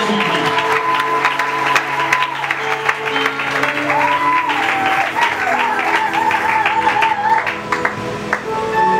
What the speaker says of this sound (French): Sous vos applaudissements, nous allons.